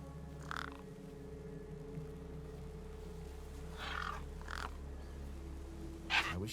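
Crows caw in the video game Beyond a Steel Sky, a few scattered calls at medium distance, one louder near the end, over a constant low electronic hum.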